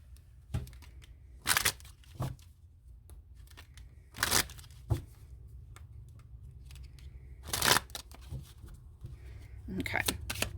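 Tarot cards shuffled by hand during a card reading, a few soft bursts of riffling and papery slaps spaced out over quiet moments, close and fairly faint.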